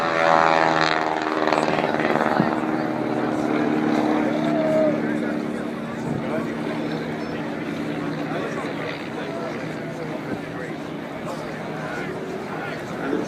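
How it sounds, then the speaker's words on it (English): World War One biplanes, including a Sopwith and a BE, droning overhead at a UK airshow display, a loud buzzing propeller hum that gradually fades as the planes pass, with speech heard over the engine noise. "the aircraft running in, with Bruce on the tail of the Sopwith, the BE"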